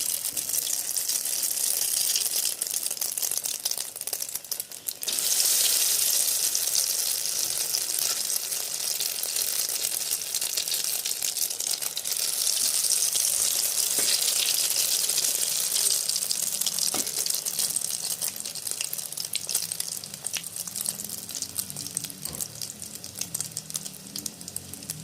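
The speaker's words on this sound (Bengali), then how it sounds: "এই তেল গরম হয়ে গেছে," Small egg rolls drop into hot oil one by one, setting off a dense, constant hissing sizzle that swells around the fifth second and stays loud throughout.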